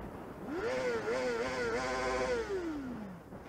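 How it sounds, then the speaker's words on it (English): A vehicle engine revs up and holds a rising, wavering whine for about three seconds, then drops away. It is moderately close and heard alone, with no speech. "he's revving"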